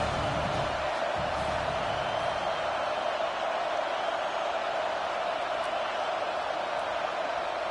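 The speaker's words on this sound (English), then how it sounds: "how nice is it to have the whole crowd going absolutely bananas?" Big stadium crowd at a Bowling Green at Michigan State college football game, a steady wall of loud roaring and cheering that holds without a break, dense and distant-sounding.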